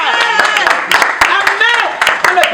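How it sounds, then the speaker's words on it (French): Audience at an orphanage visit clapping in sharp, scattered bursts, heard close and loud under overlapping voices and singing. "Applaudissez encore bien."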